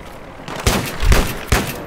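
Gunfire in Battlefield 3 during a one-on-one Gun Master match: two or three loud, close shots with booming low-end reports spread across a couple of seconds.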